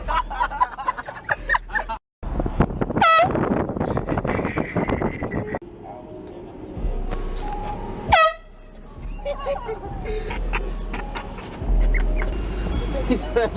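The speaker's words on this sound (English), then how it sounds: "We got an air horn." Short loud air horn blasts go off from a passing car during a drive-by prank, mixed with road noise, laughter and excited voices.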